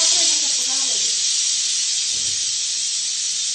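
A loud continuous hiss of steam blasting from a pressure cooker after its fourth whistle, steady and close, with a voice briefly heard underneath at the start.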